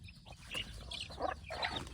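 Free-range gamefowl chickens cluck in short, soft bursts, several quick calls from a bird nearby, faint against low background noise.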